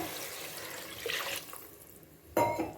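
Water splashing from a tumbler into a cooking pot of rice for ghee rice, a steady close wash of pouring with a fresh louder gush near the end, no talk.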